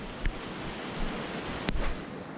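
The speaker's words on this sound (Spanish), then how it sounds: "Otra vez está lloviendo, otra vez va a caer más fuerte" Rain falling steadily at a riverside during an afternoon of shore fishing, a dense even hiss with a couple of brief knocks; no talk.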